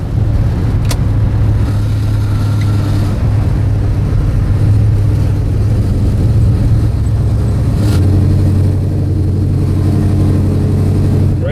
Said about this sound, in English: Running car, plenty of power, actually gets decent gas mileage